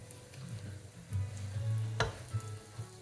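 A slice of French toast frying in a pan, a soft continuous sizzle with light scraping and stirring noises and one brief sharp clack partway through, quiet and close, no talking.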